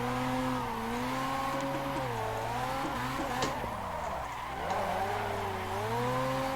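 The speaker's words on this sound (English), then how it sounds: "Let's hear some rotary noises." Rotary-engined car in the Assetto Corsa racing game, drifting: a steady, loud engine drone rises and falls with throttle while tires skid and squeal continuously underneath, with no talking.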